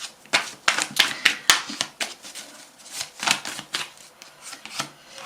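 Tarot cards being handled and shuffled, a quick series of crisp riffling snaps and soft slaps in uneven bursts, close and fairly loud, with no voice over them.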